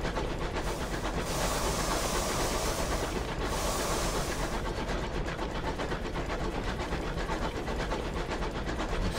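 A steady, churning mechanical rumble with rhythmic hiss from a steamship-style locomotive engine in Sunless Skies, running continuously at moderate loudness with bursts of brighter steam hiss early on.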